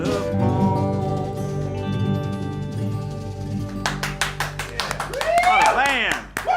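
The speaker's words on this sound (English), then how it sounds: "Another round of applause" A band's performance ends and audience applause breaks out, a scatter of sharp claps rising near the end while someone talks over it.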